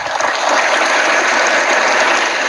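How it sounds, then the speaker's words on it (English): An audience claps hands in dense, steady applause, a loud, even wash of many overlapping claps that carries on without a break. "Everyone's clapping their hands for a reason."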